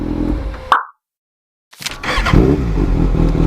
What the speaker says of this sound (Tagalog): Ganyan po ang tunog ng inline 4.